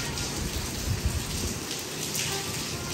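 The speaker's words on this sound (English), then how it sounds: "It's pouring." Heavy, chilly rain pours down steadily in a dense, continuous hiss of drops striking surfaces close by, with no voices over it.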